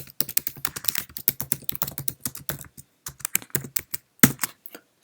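Someone types on a Mac computer keyboard while renaming a file. Quick, uneven bursts of crisp key clicks sound close to the mic, with brief pauses between runs.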